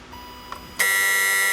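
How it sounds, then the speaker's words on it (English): A warning buzzer in a 1972 Toyota Celica sounds as the key is turned, a faint click followed by a sudden loud, steady electronic tone that continues without a break. "Whenever I turn the key, we should see that light and the buzzer come on immediately."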